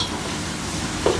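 Thinly sliced onions sautéing in a pan for chicken curry, giving a brief, steady low sizzle close by, with one soft stirring bump near the end and no talking.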